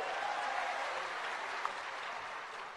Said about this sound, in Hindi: जरा जोरदार तालियों से उनका स्वागत करो।